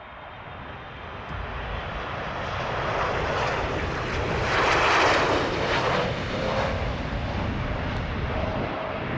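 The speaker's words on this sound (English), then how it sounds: "The Boeing 747-8F decided to abort its landing for unknown reasons." A Boeing 747-8F cargo jet aborting its landing, a loud continuous jet engine roar that swells toward the middle and stays strong, with no voices.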